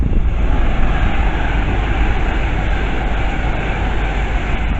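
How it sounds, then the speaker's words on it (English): A loud, steady roar of an Avanti Class 390 Pendolino electric passenger train rushing past close by at Cheddington Station, a continuous broadband rumble with no voices. "the next train pass by is Avanti 390 Pendolino."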